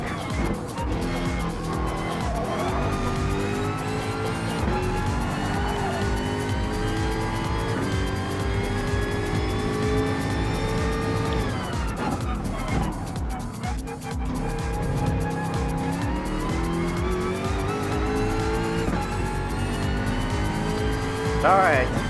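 Race car engines scream at top speed during a Gr.3 endurance race at Mount Panorama in Gran Turismo Sport, a loud, sustained whine with gear shifts and pitch sweeps as cars hold sixth gear, with faint talk under it.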